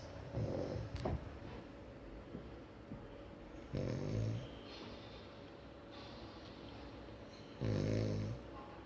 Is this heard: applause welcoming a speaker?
no